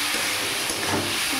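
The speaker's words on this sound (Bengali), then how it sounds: "চিংড়ি মাছটা দিয়ে একটু কষিয়ে নেব।" Prawns sautéed in hot oil for a loti chingri curry give off a steady, close, hissing sizzle that stays fairly even throughout, with no talking.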